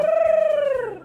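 A person imitates a different bird with a single loud, close, sustained whistled call. It holds steady with a slight vibrato and then slides downward and fades at the end. No one speaks.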